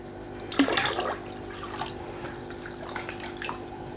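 Clear water scooped from a Daphnia magna culture tank: one close sloshing splash, then quieter trickles and drips, with no talk.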